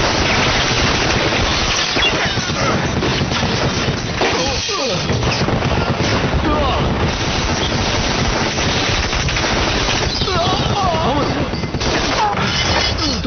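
Heavy movie gunfire erupts after a shouted command to fire, with dense, continuous automatic bursts and crashes that stay loud and sustained throughout.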